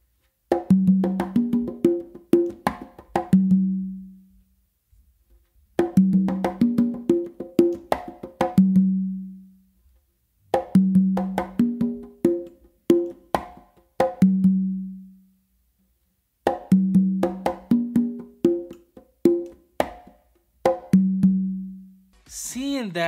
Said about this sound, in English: So it's gonna sound like this.